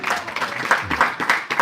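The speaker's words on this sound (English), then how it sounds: "Give him an applause." An audience breaks into applause at a religious talk about Hindu deities, a brief burst of scattered clapping that fills the space at moderate loudness with no voices over it.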